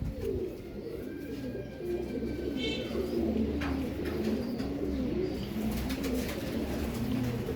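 Pigeons coo continuously in rolling, repeated low calls close by, with faint chirps and scattered background noise, no talk heard.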